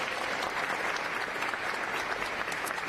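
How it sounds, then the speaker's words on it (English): An audience at a Philadelphia fundraising event breaks into applause, a dense, even clatter of clapping hands that holds steady throughout the short stretch with no voices over it. "Round of applause."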